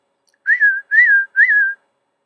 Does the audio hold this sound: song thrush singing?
no